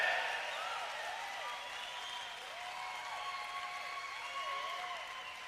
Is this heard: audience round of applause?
yes